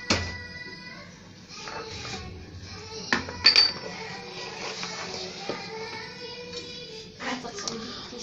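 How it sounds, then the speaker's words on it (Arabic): Cake batter for a sugared apple cake is scraped and poured from one container into a bowl, with clinking of utensils and dishes, a few sharp knocks, and a steady hum of kitchen background. "دابا غادي نهزو الخليط ديالنا وغنديروه في طاسة، اناء ديالنا،"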